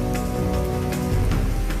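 Heavy rain pouring down in a storm over Sursagar lake in Vadodara, Gujarat, a dense steady hiss of downpour with scattered louder splashes, close and continuous.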